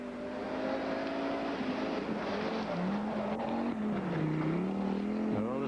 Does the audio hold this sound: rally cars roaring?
yes